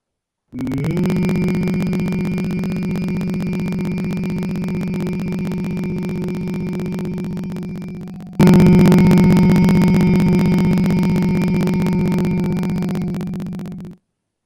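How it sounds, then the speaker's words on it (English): A person hums deeply and continuously in a steady low drone as a breathing and mental health exercise. The hum pauses briefly midway for a breath, then resumes louder and holds alone until it fades out. "take a deep breath and then hum deeply and intensely"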